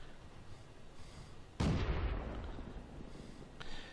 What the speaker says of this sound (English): He's shooting at nobody.